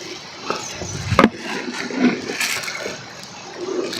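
Liquid being poured, a steady watery trickle with a brief louder splash near the middle, close and fairly loud with no voices over it.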